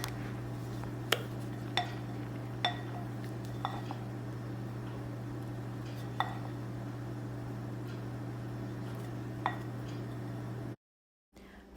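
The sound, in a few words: stirring melted chocolate chips and cream in a bowl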